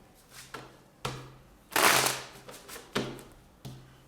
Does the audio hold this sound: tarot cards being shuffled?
yes